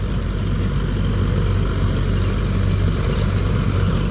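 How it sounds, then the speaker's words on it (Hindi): Several tractors running on a farm, a steady loud low engine drone with constant rumble and no breaks, no voices over it. "ट्रैक्टर चल रहे हैं 5"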